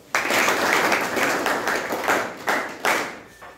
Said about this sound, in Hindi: उसके लिए तालियां बजाओ।